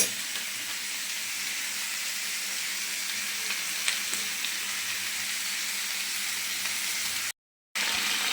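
Vegetables frying in a pan for a vegetarian dish with no onion or garlic give a loud, continuous sizzle and hiss, steady for several seconds apart from a short cut to silence near the end. No voices.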